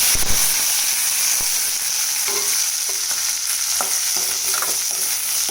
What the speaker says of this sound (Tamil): இந்த ஸ்டேஜில் கடுகு போட்டுக்கலாம் கடுகு பொரிஞ்சதும் நம்ம அரைச்சி வச்ச வெங்காயம்